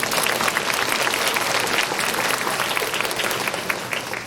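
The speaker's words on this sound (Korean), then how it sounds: "박수 다시 한번 보내주세요." Audience applause at a high school information session for incoming students, a dense, steady clapping from a large crowd filling the hall throughout, loud and continuous without a break.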